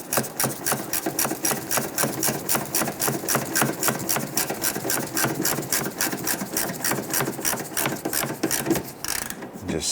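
A power tool drives in the upper fender-edge bolt while a front bumper cover is fitted on a 2011–2019 Ford Explorer, giving a steady, rapid mechanical rattle that runs nearly the whole time and stops abruptly near the end.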